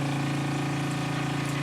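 An RV water pump hums steadily while filling the hot water heater during dewinterizing of an R-Pod camper, a constant close mechanical drone with water rushing through the lines.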